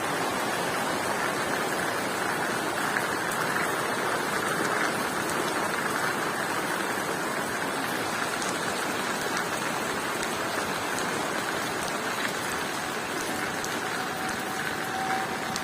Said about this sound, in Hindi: ये देखो कितना जोर से बारिश हो रहा है दोस्तों